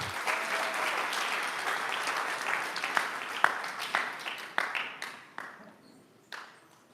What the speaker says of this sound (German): Zo een applaus voor hen.